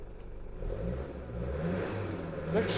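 A 1996 Toyota Hiace 3.0 turbo diesel van idles and revs through a couple of rises in low, rumbling engine tone, heard close from inside the vehicle, with a brief spoken word near the end.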